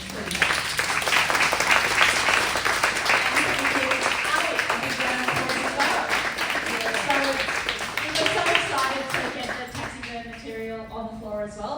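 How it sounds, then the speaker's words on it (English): An audience at an artist's exhibition walk-and-talk applauds with dense, sustained clapping that gradually thins out while people begin talking. "can we give Deb a big round of applause, please?"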